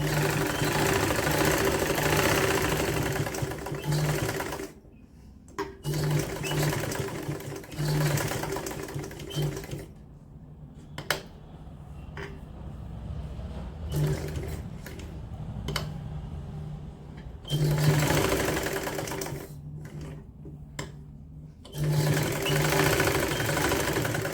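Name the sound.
sewing machine stitching woolen sock fabric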